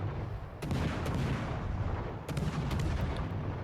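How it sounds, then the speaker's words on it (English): Ship guns firing in World of Warships Legends from the Lüshun, deep booming salvos in two heavy bursts with sharp cracks over a constant low engine and sea rumble. "So since we've got the guns, we might as well shoot him."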